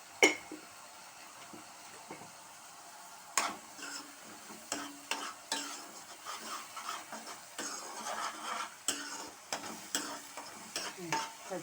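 Broad beans with turmeric fry in a pan with a soft, steady sizzle, broken by irregular clicks and scrapes of stirring, quiet and close.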